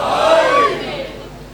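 At a Shia majlis in Lahore, an audience raises a brief, loud collective shout of a religious slogan, with voices rising together and then tapering off quickly within about a second.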